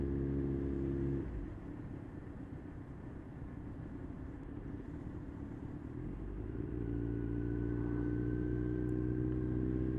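A Kawasaki Z1000 motorcycle rumbles steadily while riding, with the engine note easing and then rising again as it accelerates, continuous and close, with wind noise underneath.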